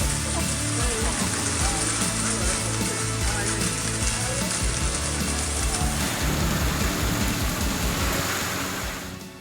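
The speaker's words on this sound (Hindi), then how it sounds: "कच्छ में बारिश के साथ ओले और तेज हवाओं की दादागिरी दिखाई दी" Rain with hail driven by strong winds in Kutch, Gujarat, a dense steady roar of downpour and gusting wind that holds loud and constant before easing slightly at the very end.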